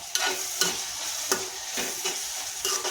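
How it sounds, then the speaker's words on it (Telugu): Close sizzling of onions frying in a pan with several rhythmic scraping strokes of a spatula stirring, repeating about every half second, no voices. "ఉల్లిపాయలు వేసేసాం కదా ఇప్పుడు బాగా తిప్పేసుకోవాలి"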